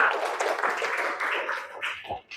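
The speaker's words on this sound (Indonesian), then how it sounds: "Oke, tepuk tangan kelompok 2." A class applauds group 2 in a school lesson, a short burst of scattered clapping that fades toward the end, with some faint voices mixed in.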